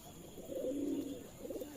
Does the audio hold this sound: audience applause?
no